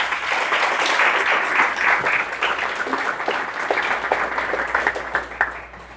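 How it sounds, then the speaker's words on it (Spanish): A church congregation applauds its levites, a dense, steady wash of many hands clapping together for several seconds, fairly loud and continuous with no talk over it. "Muchas gracias por nuestros levitas, no se me vayan muy lejos, denle un aplauso por favor."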